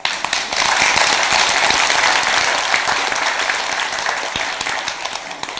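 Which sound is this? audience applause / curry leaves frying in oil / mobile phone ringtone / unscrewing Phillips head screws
audience applause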